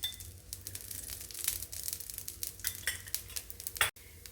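Soya dosa batter sizzles and crackles steadily in oil on a hot pan, a close, continuous frying hiss with small pops and a brief scrape near the end.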